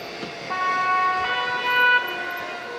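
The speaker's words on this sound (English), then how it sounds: "Now the ambulance is pulling up." An ambulance arriving on a street gives out a steady, loud, close electronic siren tone with a short horn toot. Traffic rumbles underneath.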